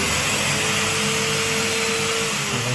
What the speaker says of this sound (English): turn the hoover on